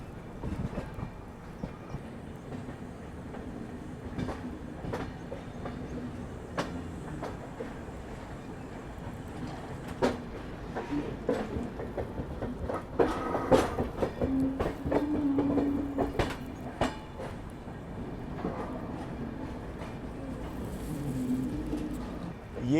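Riding the Pune–Kolkata Humsafar Express over the Nagpur diamond railway crossing, irregular wheel clicks and clacks clatter against a continuous rolling rumble, with a brief squeal partway through.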